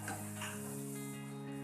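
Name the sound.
green chana pakoras frying in oil on low gas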